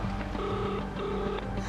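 A phone rings on an outgoing call: repeated electronic ringback tone bursts in a steady on-off pattern, heard through the handset against a noisy room background.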